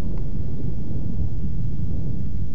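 Looping thunder ambience bed, a continuous deep rumbling roll that stays loud and steady throughout with no distinct cracks, heard alone.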